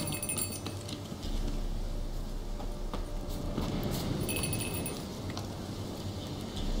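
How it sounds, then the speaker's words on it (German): A bell rung in the video game The Witcher 3 to make a stubborn goat follow, heard as bright metallic clinks and chimes over steady in-game ambience, with no talking. "Muss ich wirklich diese Glocke läuten, damit du mir folgst?"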